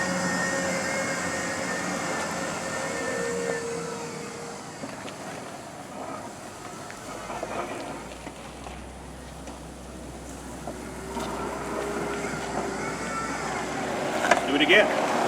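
Magic Mobility X8 Extreme power chair driving through a ditch, its electric motors whining at shifting pitch beneath a low rumble and rustling terrain, with voices talking over it.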